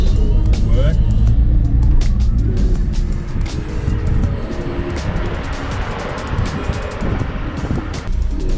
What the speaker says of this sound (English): I'll just drive down the street. We hit 40 kilometers an hour.